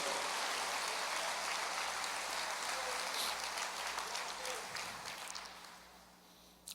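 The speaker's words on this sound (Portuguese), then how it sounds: "Aplauda ao Senhor." Church congregation applauding during a Portuguese-language service, a dense hiss of many hands clapping at once, heard faintly and from a distance, tapering off over the last seconds.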